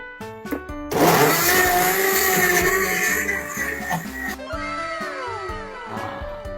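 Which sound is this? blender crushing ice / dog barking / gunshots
blender crushing ice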